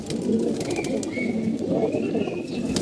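Pigeons coo close by in a loft, with a soft, continuous murmur of overlapping low throaty calls and no talking.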